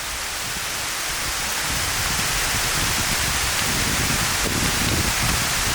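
Heavy rain pours steadily during a hike in the Swiss mountains, a dense, loud, unbroken hiss of drops with no voices.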